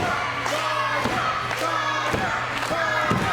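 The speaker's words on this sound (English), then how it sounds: "the crowd again trying to rally the WrestleCat" A live wrestling crowd cheers and shouts around the ring, with heavy thuds and slams from the action cutting through the roar at regular intervals.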